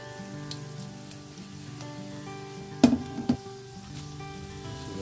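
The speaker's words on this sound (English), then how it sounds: "Let the garlic fry a bit" Garlic sizzles gently in hot oil with mustard seeds in a pan, a soft steady crackle under background music, broken by a few brief clinks of a utensil.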